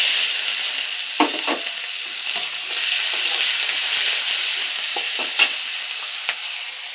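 Chopped onion frying in a pan with dried red chillies, a steady hissing sizzle broken by a few sharp clicks of stirring, close and fairly loud, with no voices.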